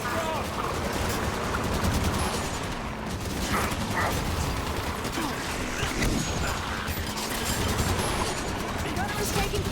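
Rapid gunfire pounds a Warthog vehicle in Halo 5: Guardians co-op, with dense bursts and mechanical clatter running throughout, loud and continuous, while a voice talks over the action.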